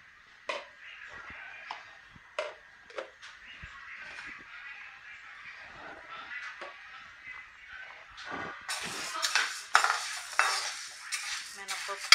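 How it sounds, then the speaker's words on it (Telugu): Urad dal is stirred and dry-roasted in a pan, with scattered scrapes and clinks of a utensil against metal that grow busier and louder toward the end. "ఇప్పుడు ఈ బాండీలో మినపప్పు వేద్దాము"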